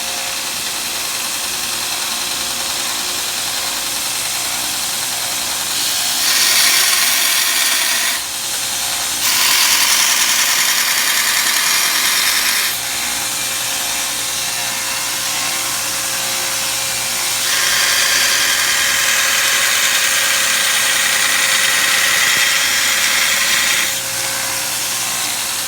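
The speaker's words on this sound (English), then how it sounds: "It's an abrasive milling machine." A homemade belt grinder runs with a continuous motor hum, and its pitch rises into a harsher grinding roar in several bursts of a few seconds each as the abrasive belt bites, close and loud throughout.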